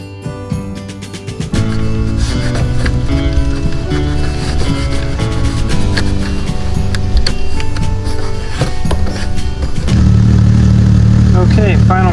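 A 1998 Jeep Cherokee XJ engine runs with a steady low rumble, mixed with other tonal sounds, and grows louder and fuller toward the end.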